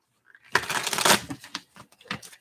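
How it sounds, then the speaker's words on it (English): Tarot cards are shuffled by hand in a quick riffle of crisp papery flutters and taps, close and fairly quiet, with no talk. "let's do one more shuffle"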